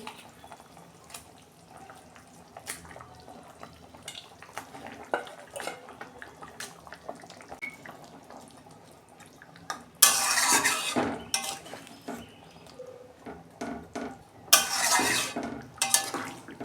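Fish going into a pot of simmering potato curry, with metal pot and utensil clatter, stirring scrapes and a few louder bursts of sizzling or splashing near the end; no talk.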